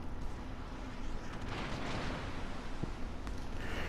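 Battleship secondary guns firing in World of Warships during a close-range brawl between two secondary-focused battleships, a steady dense rumble of repeated booms and bursts, with a few sharper cracks standing out.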